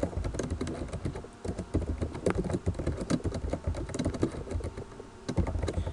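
Close, fast computer keyboard typing with clustered key taps and brief pauses, including a key-combination shortcut, recorded alone without speech.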